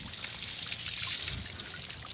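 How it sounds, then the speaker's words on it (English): Running water rinsing retted flax, a steady close trickle and splash that holds without a break. "And now just rinsing off everything."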